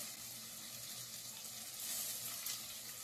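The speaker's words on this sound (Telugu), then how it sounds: "ఇప్పుడైతే ఈ విధంగా ఇవన్నీ కలిపి ఒక 5 నిమిషాలు అయితే ఇలా నూనెలో వేయిస్తానండి" Drumsticks, dried fish and tomatoes fry in oil, producing a soft, even sizzle with faint crackling that swells slightly near the end, quiet and close with no talking.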